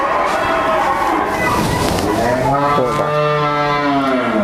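A 16-month-old Holstein Friesian heifer moos loudly and close by on a cattle farm, one long drawn-out, wavering low call filling the whole stretch.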